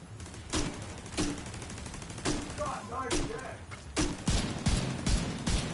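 Gunfire in a Division 2 firefight: a run of sharp, loud rifle shots in irregular bursts roughly every second, with a brief rapid volley, while voices talk faintly in the background.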